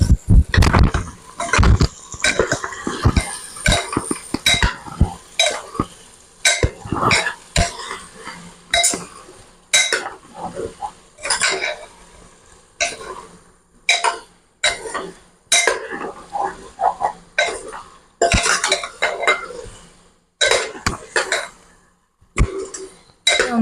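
Green papaya and potatoes being stirred into goat meat in a metal pot, with repeated clinks and scrapes of a utensil at an irregular rhythm, close and fairly loud, no talk.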